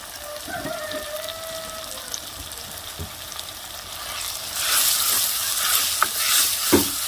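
Chili powder and turmeric powder stir-frying in a pan for a village-style Kerala fish curry, with soft sizzling and scraping stirs that build louder and denser in the second half, with no talking.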